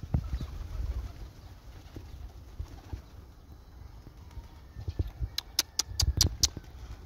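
Soft, low pigeon coos murmur close by over quiet background, followed by a few sharp flutters and taps near the end.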